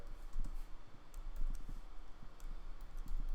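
Computer keyboard typing heard softly at close range, with scattered light key clicks in small irregular clusters over a steady low background hum.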